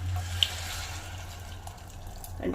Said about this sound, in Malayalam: നമ്മൾ ചൂടുവെള്ളമാണ് ഒഴിക്കുന്നത്